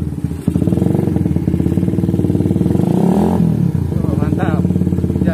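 A Suzuki Satria FU motorcycle fitted with a PE28 carburetor to cure a misfire idles steadily and loudly nearby, then revs up briefly before settling back, while people talk over it.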